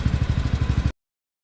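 Engines idling in a traffic queue at a petrol pump, a close, rhythmic low motorcycle-like putter running steadily for under a second before cutting off abruptly.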